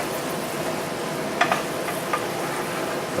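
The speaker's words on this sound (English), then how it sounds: "And everything will saute" Vegetables and garlic sauté in a hot pan with a soft, steady sizzle, broken by a few brief clinks and stirring scrapes midway; quiet and close, with no voices.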